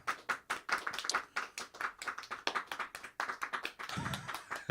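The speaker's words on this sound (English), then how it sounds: "Motivated clapping there." An audience at a live comedy show claps in a brisk, uneven patter of close hands that thickens toward the end.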